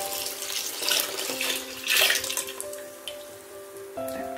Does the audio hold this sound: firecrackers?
no